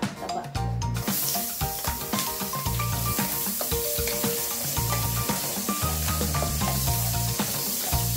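Fatty meat sizzling and frying in a pan as its fat renders out before cabbage, carrots and chayote are stir-fried, a loud continuous crackle with scraping stirs and music playing throughout.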